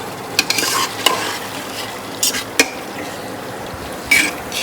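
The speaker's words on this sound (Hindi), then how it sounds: "पहले गोश्त को अच्छे से भून लो" Meat sizzles and fries steadily in a pot, close by, while a spoon scrapes and stirs in sharp, irregular clinks against the metal.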